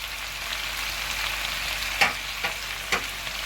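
Sugar, a Maggi stock cube and crushed garlic stir-fried in a hot pan, with a steady sizzle broken by a few sharp scrapes of the spoon against the pan.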